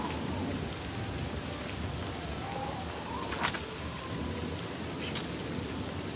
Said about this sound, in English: God, it just keeps raining.